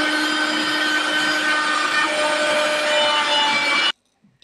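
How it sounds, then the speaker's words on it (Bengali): A mixer grinder blending mint leaves, sliced ginger and a little water whirs loud and steady for nearly four seconds, then cuts off abruptly into near silence. "পুদিনা পাতাগুলো মিক্সি গ্রাইন্ডারে দিয়ে দিচ্ছি।"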